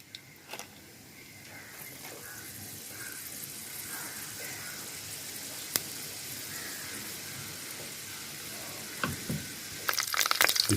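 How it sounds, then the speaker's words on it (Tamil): A spoonful of chana dal fries in hot oil with a soft, steady sizzle that holds at low volume, broken by a few light clicks and a brief clatter at the end. "கடலப்பருப்பு லைட்டாக பொரிக்கிட்டோம்."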